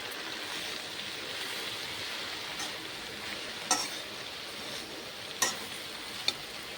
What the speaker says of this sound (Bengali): খুব বেশি কিন্তু তেল নেই এতে, অল্প তেলেই ভাজছি।